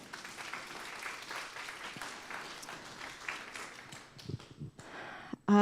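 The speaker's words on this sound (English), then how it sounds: "Let's applaud them as well." A church congregation applauds volunteers at a Sunday service, a steady patter of clapping that thins out toward the end before a sudden loud burst closes the clip.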